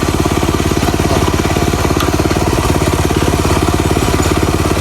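A homemade small tractor's engine runs loud and close, a fast, steady chugging beat that never lets up and fills the whole stretch with rough mechanical rattle.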